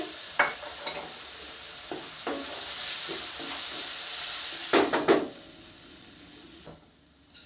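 Ground tomato paste and spices fry in a pan for a pea masala curry, giving a close hissing sizzle broken by sharp stirring scrapes and spits, fading toward the end.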